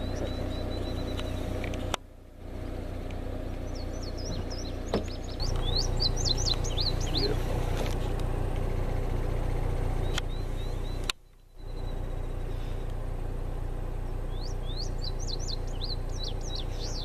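An indigo bunting sings short bursts of high, quick chirps in two separate phrases, faint and a bit distant outdoors over a steady low background hum.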